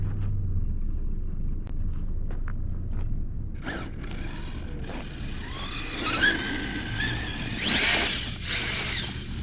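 An ARRMA Kraton XL RC truck fitted with M2C aftermarket parts and a faulty throttle is driven outdoors: a quiet start with a few faint clicks, then whining electric-motor bursts and rough rolling rumble that rise and fall.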